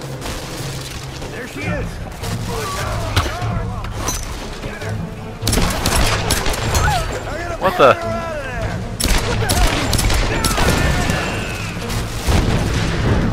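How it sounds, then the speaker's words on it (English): Explosions and gunfire in a cave in Tomb Raider, with loud repeated booms and bursts of shots packed tightly together across the stretch while a player talks over them. "Whoa! There's explosions!"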